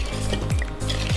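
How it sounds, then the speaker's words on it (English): Ingredients for pecan pie brownies are whisked in a bowl, a brief close scraping and stirring with two swishing strokes over a steady background hum. "Now that your ingredients are together, you're gonna want to whisk it thoroughly until all the parts are"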